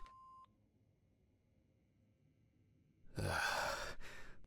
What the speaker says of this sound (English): I'm calling Stephen.